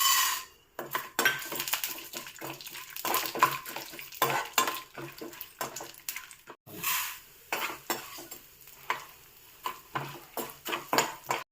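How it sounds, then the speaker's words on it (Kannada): Chana dal and urad dal fry in hot oil in a pan, with a utensil scraping and stirring in repeated bursts and a faint sizzle underneath, close and moderately quiet with no voices. "ಉದ್ದಿನಬೇಳೆ ಹಾಕ್ಕೊಂಡು ಹುರಿಯೋಣ"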